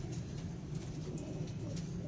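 Pigeons coo on a rooftop, a low, throaty burbling that runs continuously under faint, higher outdoor ambience.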